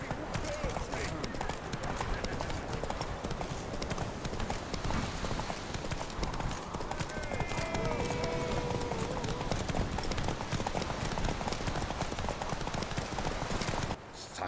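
A horse in The Witcher 3 video game gallops with fast, continuous clip-clop hoofbeats over a steady rumble that run the whole way and stop abruptly at the very end.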